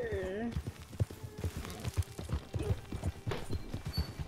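Horse hooves clopping in Red Dead Redemption 2 in a quick, uneven galloping rhythm of repeated thuds, with a short whinny-like tone at the start and faint game ambience underneath.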